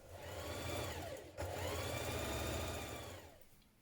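A sewing machine runs a short, steady stitch along the inside leg seam of trousers, a close humming whir with a brief dip in speed midway, fading at the end.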